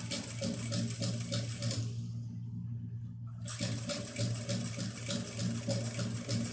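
A sewing machine slowly stitches piping onto a simple fabric pouch, a steady motor hum with rhythmic needle patter that drops out briefly midway before resuming, close and alone.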